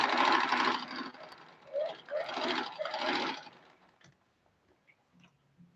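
Sewing machine stitching Ankara fabric for a head dress, a soft, low-level motor hum with a short lull and a second run before it stops, faint and close.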